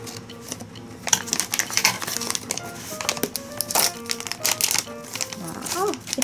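Scissors snip and crinkle through plastic packaging around a Shnooks pop shake style plush toy in a run of close, irregular cuts and rustles, with people talking over it.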